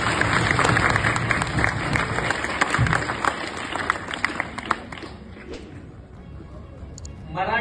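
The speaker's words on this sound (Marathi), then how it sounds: "नटराज सरांसाठी सुद्धा एकदा आपण क्लॅपिंग करू," An audience at a Marathi literature lecture claps for a teacher, a dense burst of applause that fades over several seconds into scattered claps and room murmur.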